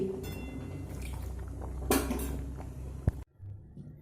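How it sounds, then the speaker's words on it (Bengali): Boiled cauliflower being drained, water pouring and splashing out with clatters of a pot and metal, a sharp clank near the end before quieter handling sounds; no talk. "এবার জলটা ছেঁকে আমি তুলে নেব"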